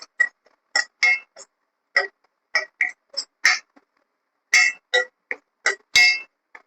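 A metal spoon scrapes and clinks against a pan while cluster beans are stirred as they fry, a series of short, crisp, irregular clanks with quiet gaps between them.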